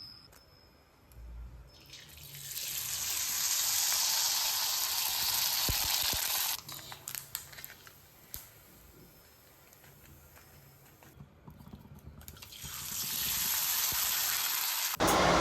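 Sabudana and potato papad hit hot oil and sizzle loudly in two long bursts, with a quieter gap between them filled by faint clinks and handling noises.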